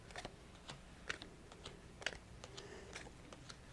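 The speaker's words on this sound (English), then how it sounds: "Then I put down the rest of the cards." Playing cards set down one after another on a table during a card trick, a series of soft, light taps and slaps at an irregular pace, faint and close.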